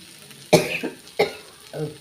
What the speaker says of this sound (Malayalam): ചൂട് കയറിയപ്പോൾ ചുമ വരിക